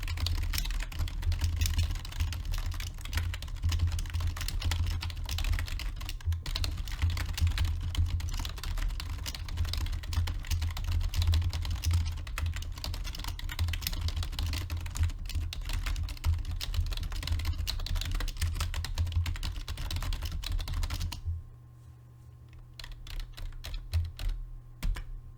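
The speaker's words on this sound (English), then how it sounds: "The key upstroke has quite a bit of rattle, while the bottom out is muted by the dome sheet." Continuous typing on an Acer SK9625 rubber dome keyboard, rapid soft keystrokes muted at the bottom with a slightly rattly upstroke, close up, stopping near the end before a few last taps.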